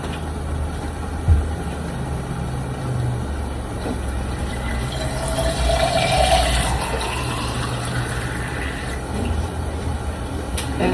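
Tap water runs steadily into a container in a home kitchen while cooking is under way, a continuous splashing fill that rises slightly in pitch as the vessel fills, with background hum and occasional clatter.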